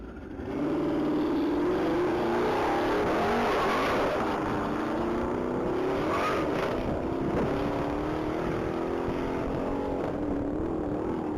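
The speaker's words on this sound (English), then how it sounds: "That's going to be a 2020 Dodge Challenger Hellcat" A 2020 Dodge Challenger Hellcat accelerates hard down a one-mile top-speed racing course, its loud engine note climbing through rising gear pulls that sound continuously for about eleven seconds with no talk.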